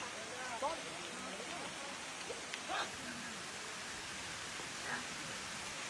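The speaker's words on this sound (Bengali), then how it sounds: "এই যে গাছ বৃষ্টি হচ্ছে গাছ।" Steady rain falls on trees in a hilly area, making an even, close wash of patter with a few faint brief sounds rising above it, and no voices.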